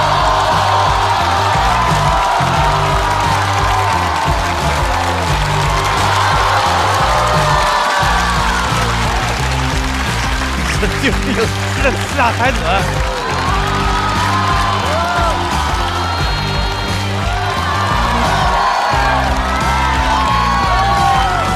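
A studio audience at a Chinese stand-up comedy show applauds and cheers continuously, dense loud clapping mixed with whoops and shouts, while an announcer's voice speaks over the crowd.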